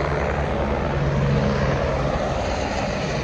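Steady, loud rotor-engine drone of a helicopter overhead at Kedarnath, a continuous low throbbing rumble with no voices.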